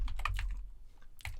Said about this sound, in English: I'm going to type in call Karen Corey